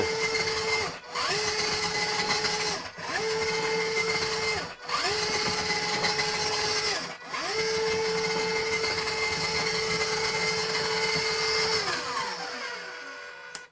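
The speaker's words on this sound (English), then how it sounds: "If I flick on the motor enable and decide which direction I want to turn it in, I can use this encoder to drive the whole thing." A large robot's servo motor drives back and forth in four long whirring runs, each with a steady electric motor hum and whine separated by brief pauses, close and alone with no talk.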